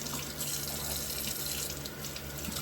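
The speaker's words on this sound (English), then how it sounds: "So we'll just kind of wash each piece." Kitchen sink tap running steadily while raw chicken thighs are rinsed piece by piece, a close, continuous hiss and splash of water with no talk.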